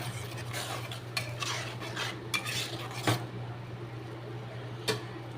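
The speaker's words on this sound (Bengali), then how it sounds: "মশলাটা এবার কষানো হবে" A spice mix for fish curry is stir-fried in a pan, a utensil scraping and tapping against metal in irregular strokes over a steady low hum and faint sizzle, close up with no voices.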